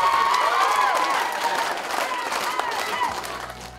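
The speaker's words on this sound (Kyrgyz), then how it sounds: "кийинкилер алаканы ысыганча кол чаап, өз командаларын колдоп коштоп жатышты" Women in a prison yard clap their hands hard in support of their teams at a festive event, a dense, steady patter of applause mixed with crowd voices and cheering throughout.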